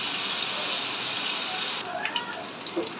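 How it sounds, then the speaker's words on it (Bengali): Chicken sizzles as it fries in a pan, a steady dense hiss with small pops and crackles that shift midway as the pieces are moved, close and fairly loud. "তো আমি একটু ভেজে নেই।"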